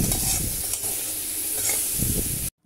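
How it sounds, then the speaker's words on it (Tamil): Cauliflower roasting in a hot pan, stirred and tossed steadily with a constant sizzle and scraping close up, alone without voices, then cutting off abruptly near the end. "இப்போ இதை நல்லா நம்ம பெரட்டி பெரட்டி விட்டு எடுக்கணும்."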